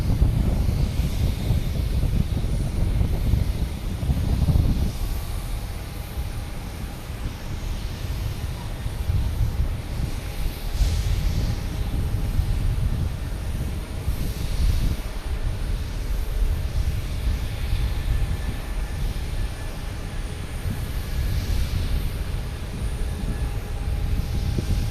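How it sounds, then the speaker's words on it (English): A JetBlue airliner taking off at Boston Logan Airport produces a long, steady low roar of jet engines, with gusts of wind buffeting the microphone and no talk over the sound. "we have JetBlue taking off to Sacramento"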